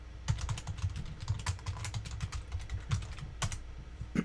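Rapid typing on a computer keyboard, a dense run of light clicking keystrokes close by and steady throughout, with no voices.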